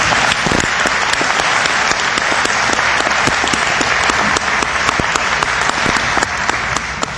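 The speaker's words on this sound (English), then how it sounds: "Let's give another round of applause, please." Loud, sustained applause from a large crowd at an annual Muslim convention, dense continuous clapping with sharper individual claps standing out throughout.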